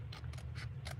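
Scissors snip at a crafting table, four short crisp cuts in a quick, even rhythm, close and fairly quiet over a low background hum.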